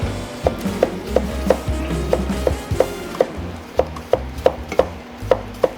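Food sliced thinly with a ceramic knife, giving a steady run of crisp knocks against the cutting board that quicken toward the end, with low background rumble and no talking.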